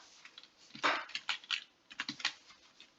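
Someone types a chat message on a computer keyboard in a 3D driving simulator game. Clusters of quick, crisp key clicks come close up in short bursts, with brief gaps between them and no talking.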